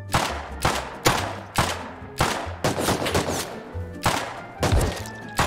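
Rapid gunfire from the survival video game Rust: about a dozen loud, sharp shots come in quick bursts with short gaps, each with a booming low thud and a crackling tail.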